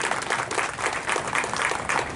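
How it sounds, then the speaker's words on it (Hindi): An audience at a Bharatiya Mazdoor Sangh event honouring women breaks into brief, steady, dense applause, close and lively throughout. "मैं चाहूँगा एक बार आप अपने लिए जोरदार तालियां बजा लें।"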